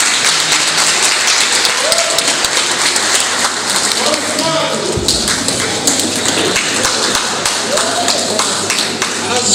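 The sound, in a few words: audience applause at diploma ceremony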